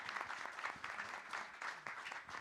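Applause from a live audience at a Christmas show in the Old Jail Listening Room, Statesville, following a performance; steady clapping from a small crowd, fairly close and continuous throughout.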